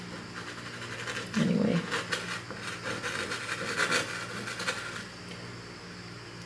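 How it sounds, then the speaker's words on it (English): Pastel scratching across sanded paper while painting lavender in grasses, close rasping strokes with a few louder scrapes, and a brief spoken word. "Something in the pastel, perhaps. You hear the scratching."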